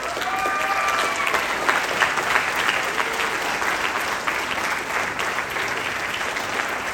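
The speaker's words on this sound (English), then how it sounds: "Let's give her another applause." An audience applauds a presenter at a talk on women pioneers of la canción ranchera, with steady, dense clapping that holds for the full stretch without fading.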